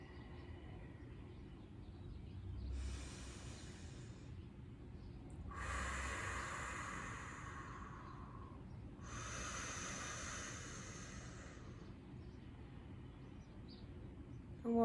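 Three slow, soft exhalations through the nose during a breathing meditation, each a breathy hiss lasting one to two seconds, spaced a few seconds apart over a quiet background.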